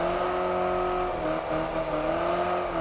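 A car accelerates at full throttle in the racing game Test Drive Unlimited Solar Crown, its engine a loud, steady high-revving drone that shifts pitch briefly mid-pull before holding strong, with no talk over it.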